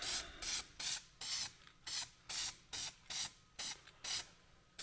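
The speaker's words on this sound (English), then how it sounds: "I'm kind of just gonna give it a quick little blast of primer" Primer sprayed from a spray can onto steel bodywork of a 1955 Chevy Napco: about eleven short, crisp hissing bursts in a fairly regular rhythm, heard close up with quiet gaps in between.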